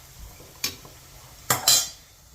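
Food cooking in a pan is stirred and mixed so it won't stick to the bottom. A spoon gives three quick scraping clinks against the pan, a single one followed by a close pair, over near-silence.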